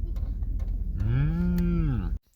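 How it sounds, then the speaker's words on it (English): Feral cows mooing outdoors, one long drawn-out low moo near the microphone rising out of rumbling background noise and cutting off abruptly near the end. "Wild cows are hanging out here."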